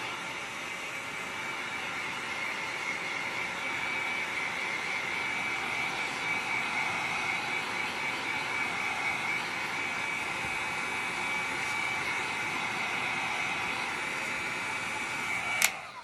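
A handheld dryer blows steadily to dry a second coat of paint on a wooden tiered tray, a constant close whooshing whir with an abrupt click near the end.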